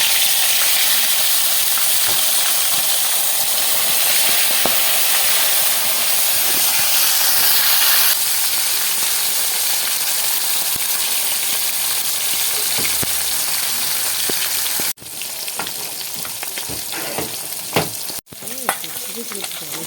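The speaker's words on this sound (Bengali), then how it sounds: "তেল গরম হয়ে গেছে বন্ধুরা, এবার একটা একটা করে মাছ আমি ছেড়ে দিই।" Fresh rupchanda fish fry in hot mustard oil in a wok, a loud steady close sizzle and hiss with scattered pops, broken by a couple of abrupt handling cuts near the end.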